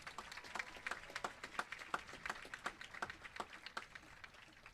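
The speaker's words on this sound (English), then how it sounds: "please give them a round of applause." A crowd at a high school graduation ceremony applauds the teachers and staff, with many hands clapping at a distance and individual claps standing out sharply through a soft, steady patter.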